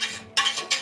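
A whisk strikes a cooking pot in three quick metallic strokes, each a short scraping clink close by.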